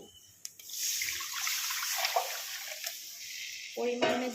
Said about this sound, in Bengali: এবার আমি এতে অ্যাড করব জল।